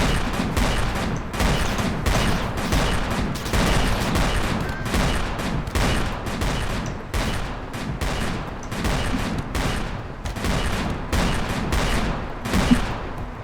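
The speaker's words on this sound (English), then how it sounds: "You fired so many shots." Rapid bursts of video game gunfire, assault-rifle style, fire in a dense, continuous stream of loud, closely spaced shots for the whole stretch.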